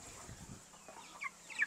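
Chickens on a farm make a few soft clucks, then brief higher squawks, all faint and sparse in the short moment.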